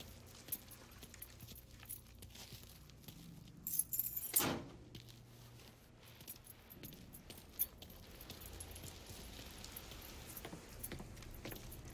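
Car keys jangle in Mafia 3, a short bright metallic rattle standing out near the middle over a low, steady game background.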